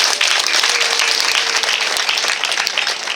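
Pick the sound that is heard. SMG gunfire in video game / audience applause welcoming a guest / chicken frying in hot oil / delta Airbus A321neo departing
audience applause welcoming a guest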